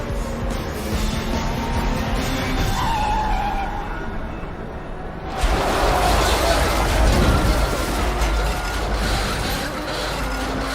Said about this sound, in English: racer Stefan Ortelli in his LC70 comes down the straightaway at 186 miles per hour.